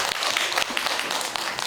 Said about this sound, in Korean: 자, 나한테 박수.